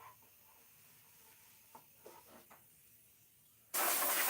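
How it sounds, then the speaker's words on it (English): A few faint knocks and shuffles, then a loud, steady hiss of spraying water bursts in near the end and keeps going. "Normally we don't have to spray it down to dry it"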